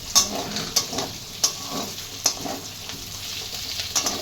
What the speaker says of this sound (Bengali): সবজিটাকে মিশিয়ে দেবো, এবার ছোলাগুলো দিয়ে দেবো